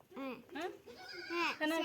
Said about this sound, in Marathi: शेळी आली का शेळी तिकडं